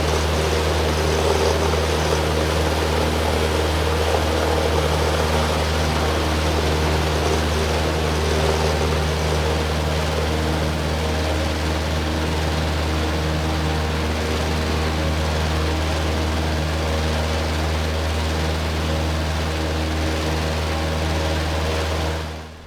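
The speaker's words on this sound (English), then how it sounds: "So I'm going to be quiet now so you can enjoy the takeoff" A Cessna 150 in the X-Plane 11 flight simulator on its takeoff roll, its light propeller engine droning loud and steady from start to finish, with a slight crosswind.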